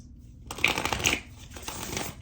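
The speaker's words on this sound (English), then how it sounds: "I'm going to shuffle through that again." A deck of cards riffled and shuffled up close, a quick papery flutter swelling then trailing off, with a brief second ruffle near the end.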